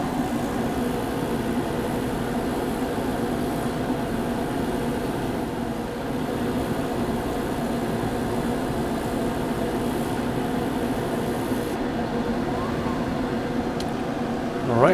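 Laser cutter running a print-and-cut job with the exhaust fan switched off, giving a steady mechanical hum and whir that holds evenly for the whole stretch, with a brief louder touch at the very end.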